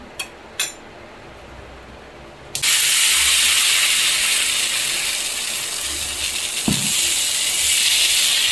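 After a couple of faint clicks, oil poured onto a hot dosa pan rubbed with onion erupts into a loud, sustained sizzle that carries on steadily, with one brief knock partway through.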